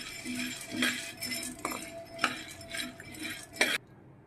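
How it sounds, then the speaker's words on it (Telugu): Roasted gram dal dry-roasting without oil in a pan, stirred with a metal spatula: a string of clinking scrapes and taps at an irregular pace, fairly close and moderately loud, no voices. "ఫస్ట్ స్టవ్ వెలిగించి బాణలు పెట్టి పుట్నాల పప్పు వేయించుకోవాలి"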